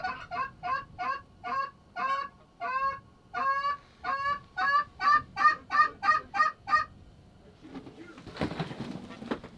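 A flock of geese honks repeatedly in loud, clustered calls during a snowy goose hunt from an underground bunker, close overhead, ending in a brief burst of rustling noise.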